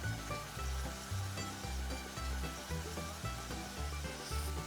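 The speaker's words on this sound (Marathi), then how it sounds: "कांद्याचा पण कच्चेपणा जाऊस्तोवर आपण परतून घेऊ आपला कांदाही छान परतला गेलेला आहे" Onion sautés in a pan during Indian-style cabbage rice cooking, a continuous soft sizzle with stirring beneath music that plays throughout.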